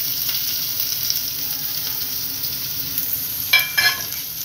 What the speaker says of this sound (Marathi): आता हा त्याच्यात थोडासा हिंग, 1/4 चमचापेक्षा थोडा कमी असा हिंग टाकलेला आहे आणि हा कांदा आपण कापून घेतला